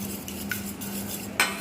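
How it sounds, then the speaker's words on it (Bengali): Egg and oil for a microwave chocolate cake being beaten in a bowl, a steady soft swishing with a couple of sharp utensil clinks against the side. No speech. "প্রথমে বেশ কিছুক্ষণ ধরে এটাকে ভালো করে ফেটিয়ে নেব।"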